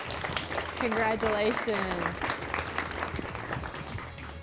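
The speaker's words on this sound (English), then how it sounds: "So for our 4A runner-up, it is Arkadelphia this year. Round of applause." Audience applause for the 4A quiz bowl state runner-up team Arkadelphia, a steady round of clapping filling the room while a voice speaks briefly over it.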